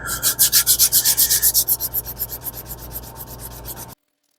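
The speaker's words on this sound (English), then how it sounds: "we're going to go ahead and sand it" Hand sanding a golf club ferrule with 220 grit sandpaper: quick, steady back-and-forth rasping strokes, loud and close at first, then lighter and slightly faster before stopping abruptly, with no voices.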